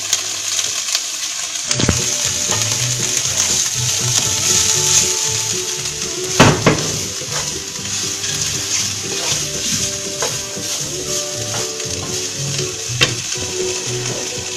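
Minced beef steak broken into small pieces and cooked in a pan for lasagne bolognese, a steady close sizzle with scraping stir strokes and occasional clinks of a utensil against the pan.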